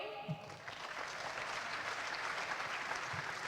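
An audience at the Esports Awards 2019 claps in a steady, dense wave of applause throughout, heard from a distance at fairly low level, with a voice faintly over the top.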